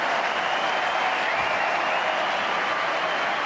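A tennis crowd at Indian Wells applauds in a steady, dense wash of clapping that holds at an even level for the whole few seconds, with no one talking over it.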